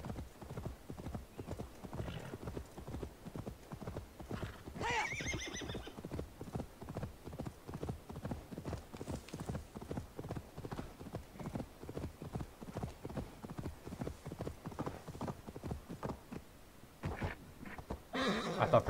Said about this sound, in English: I thought for sure the horse was gonna not make that.